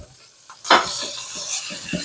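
Garlic hits a hot pan and starts sautéing, a sudden loud sizzle that keeps hissing steadily, close up, with a few scrapes of a utensil against the pan and no talk.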